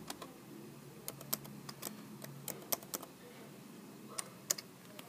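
Computer keyboard being typed on to enter a cd command, a string of sharp, quiet key clicks in irregular bursts with short gaps, close and alone in a quiet room.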